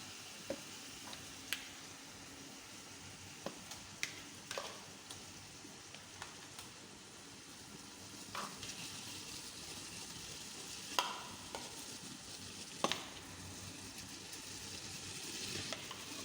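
Chicken pieces frying in a pan on a lowered flame for chicken tikka masala, a soft steady sizzle with scattered pops and crackles, fairly quiet and close, no talking.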